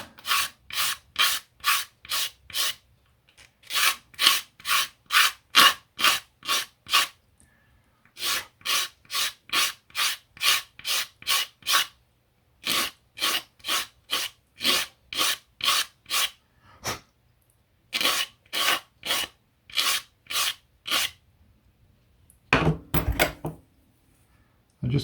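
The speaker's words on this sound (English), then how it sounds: "I'm just using a scalpel blade just to clean up the inside edge where it's been sanded, and just taking the edge off the outside." A scalpel blade scrapes the sanded edges of a model rocker cover for a scale Gnome Monosoupape engine: close, crisp rasping strokes in quick rhythmic runs, separated by short pauses, with no talking.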